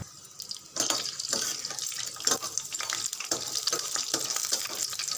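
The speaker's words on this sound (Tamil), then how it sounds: "கொஞ்சம் பொரியட்டும்" Dried red chili, chana dal, cumin seeds and slit green chili frying in hot oil on low heat, a steady bright hiss with scattered crackles and pops running throughout, close and fairly loud, with no talking.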